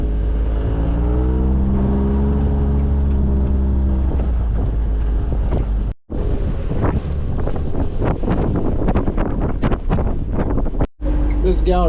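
Strong 50 mph wind roars across open Nebraska Sandhills grassland, buffeting the microphone in a loud, constant rumble, with a cattle drive moving nearby and someone talking over the gusts.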